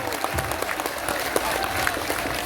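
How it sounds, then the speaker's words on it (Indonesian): An audience claps continuously, a steady wash of applause with scattered louder claps and faint voices underneath. "Tepuk tangan untuk Banser Taiwan."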